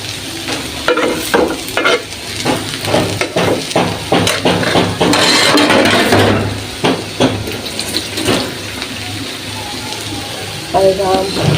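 Raw green mango dal cooking in a pan, with repeated scraping stirs and a steady sizzle and bubbling close by, under intermittent talk.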